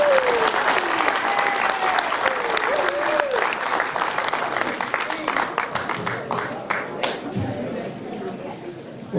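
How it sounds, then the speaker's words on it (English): A crowd applauds steadily for Tom Blakeman at an afternoon board candidate meet-and-greet, dense clapping running throughout with a few voices and a whistle-like tone rising above it. "please give a big round of applause for Tom Blakeman"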